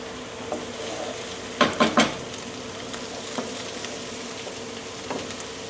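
Onions sizzle steadily in a pot while a wooden spoon stirs them, with a few distinct scraping strokes against the pan bottom rising over the continuous frying hiss.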